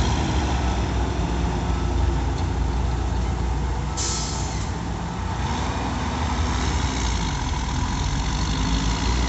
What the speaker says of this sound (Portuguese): Sente a pressão do motor dele, ó.